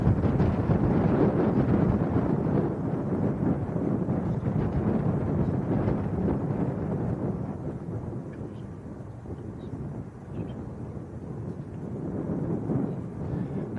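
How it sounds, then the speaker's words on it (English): A stiff westerly breeze buffets an outdoor microphone at Leeds Bradford Airport, making a steady, loud, low roaring rumble that lasts the whole time with no voices. "Quite a stiff breeze coming from the west."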